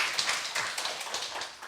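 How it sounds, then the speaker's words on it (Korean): A church congregation applauds during a Sunday morning service, a short burst of close, brisk, uneven clapping with no talk over it. "우리 박수 좀 해주시기 바랍니다"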